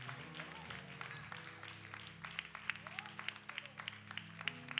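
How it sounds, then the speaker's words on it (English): Church congregation clapping hands during worship, a steady run of crowd applause with rhythmic claps and some voices and tones underneath. "Come on, clap your hands and give him glory."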